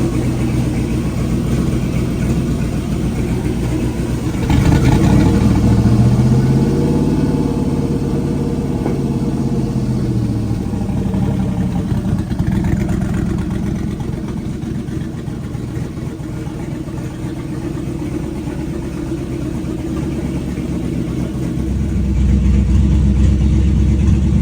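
A Pontiac Trans Am engine fitted with a Holley Terminator fuel injection system runs loud and close. It holds a steady idle with a swell of revving early on, dips slightly, then builds again near the end.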